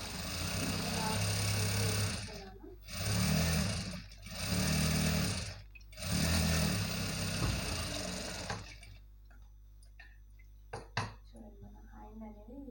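Sewing machine top stitching fabric for a puff sleeve, several loud close bursts of rapid mechanical stitching separated by short pauses, then quieter clicks and handling.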